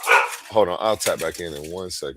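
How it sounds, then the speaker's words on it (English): Several dogs bark nearby in sharp, loud, overlapping bursts while someone talks over them. "Let's see what they're barking at."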